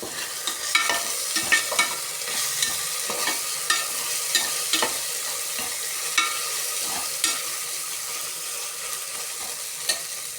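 Ginger garlic paste, freshly ground, sautéing in a pan for a vegetable biryani, with a steady broadband sizzle and frequent spatula scrapes and taps at a fairly even pace throughout.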